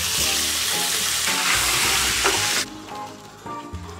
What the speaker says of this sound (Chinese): 再做个红烧鱼，把它煎一下。